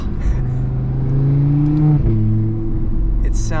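Loud Audi RS3 cruising at about 30 mph in second gear, its steady engine and exhaust drone rising slightly then settling, heard close from inside the cabin with no talking.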